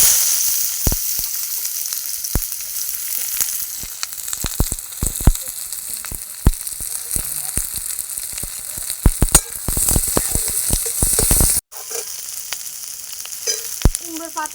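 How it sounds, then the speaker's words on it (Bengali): Onions and garlic sizzle steadily in a hot pan over a lit stove, a continuous frying hiss with scattered crackles and pops, close and fairly loud, a brief break near the end. "এবার পেঁয়াজ আর রসুনগুলো একটু ভেজে নেব।"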